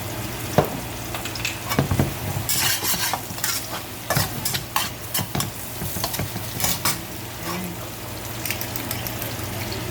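Food frying in avocado oil in a pan, a steady sizzle with a spatula repeatedly scraping and stirring, clattering at close range and with no speech.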